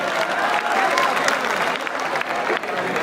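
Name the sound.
audience applause at a mushaira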